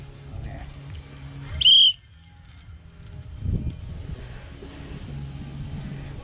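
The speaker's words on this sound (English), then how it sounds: "Get the bloody whistle, mate" One sharp, shrill whistle blast rings out loudly for a moment at a fishing resort lake while an arapaima is being landed, followed by quiet outdoor background and faint low rumble.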